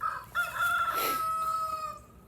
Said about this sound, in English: the rooster starts crowing every time I get the camera out